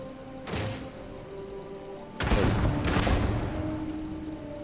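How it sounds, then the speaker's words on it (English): Two bursts of loud, broadband blasts with crackling gunfire in the game Starfield, the second longer and rumbling, over a steady background hum. "What were all those explosions?"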